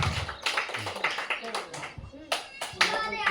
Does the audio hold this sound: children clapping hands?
yes